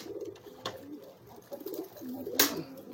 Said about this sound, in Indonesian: Ini merpati yang ketiga saya